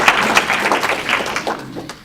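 Indoor audience applauding in response to a presenter, a dense patter of many hands clapping at close range for about two seconds, tapering off at the end.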